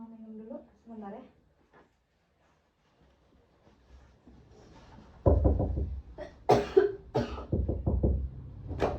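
A person coughs several times in quick, harsh bursts in a quiet room during a counseling session, close and fairly loud, with brief soft talk beforehand.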